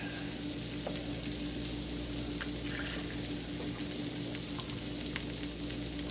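Fried rice sizzles in a pan for breakfast, a steady dense crackling hiss at moderate level with occasional faint clinks of stirring, no voices.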